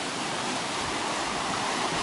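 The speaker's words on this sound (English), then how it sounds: "here is the creek again" A creek flows near a micro hydro channel, a steady broadband rush of water that holds constant and close throughout with no pauses.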